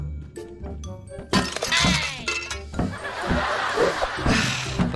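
Glass objects smashing in the video game Kill It With Fire, several loud shattering crashes with tinkling debris, close, amid game sounds and brief talk.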